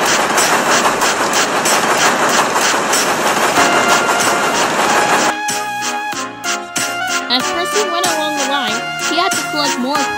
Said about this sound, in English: Percy started off with his train.